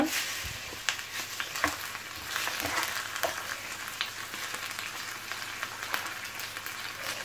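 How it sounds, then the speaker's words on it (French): Chicken pieces and onion fry in a pan for an aubergine and chicken tajine, a moderate, steady sizzle with a few sharp crackles and stirring clinks. "Bien faire dorer les morceaux. Ensuite, ajoutez l'oignon."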